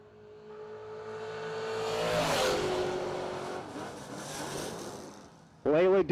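Drag race launch of a 5th gen Camaro and a Chevrolet S10 at a no-delay drag event, engines swelling in a loud roaring pass that fades, then an announcer's voice near the end.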